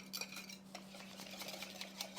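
Starch being whisked into a liquid mixture for a meat marinade in a kitchen: faint, quick stirring and light clinking against a bowl over a low steady hum.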